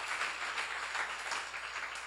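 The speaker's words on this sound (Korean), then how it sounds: "박수를 하나 주세요." An audience at a church seminar gives a round of applause, heard as faint, steady, distant-sounding clapping.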